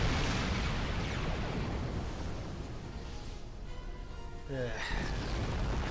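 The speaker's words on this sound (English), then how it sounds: "Explosions, kabooms, easily pleased Klingons." Explosions in a Star Trek space battle video game create a continuous loud roar of booming blasts, with a brief descending tonal sweep near the end.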